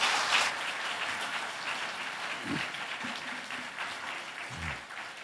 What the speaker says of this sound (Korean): 우리 박수로 함께 환영하면서 말씀 듣겠습니다